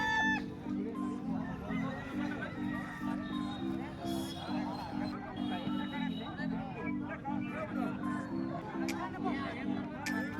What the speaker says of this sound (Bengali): লড়াকু মোরগ সব বাঁধা রয়েছে